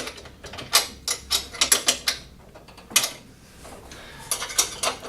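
Metal clicks and ratcheting taps from a 12mm spanner tightening nuts on a Hyundai HYM460SPR self-propelled roller lawn mower during assembly, a close, irregular series of sharp clinks with brief pauses.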